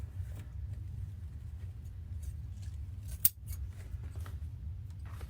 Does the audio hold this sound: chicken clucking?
no